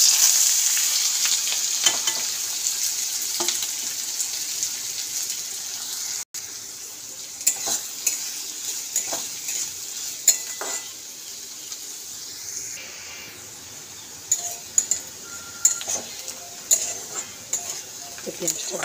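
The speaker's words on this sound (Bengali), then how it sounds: "তো পেঁয়াজটা ভাজা ভাজা হয়ে গেছে" Chopped onions sizzle and fry steadily in a pan for tadka dal, a continuous hiss broken by occasional clinks and scrapes of a stirring spoon against the metal.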